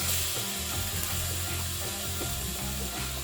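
Marinated mango pieces for an instant Kerala sadya mango pickle sizzle steadily in hot oil over a lowered flame, a dense continuous frying hiss with faint low hum beneath and no voices.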